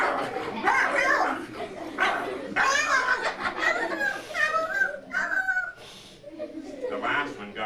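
A voice mimics a dog fight with a rapid string of close, loud growls, barks and yelps, ending in whimpering cries, continuous over several seconds.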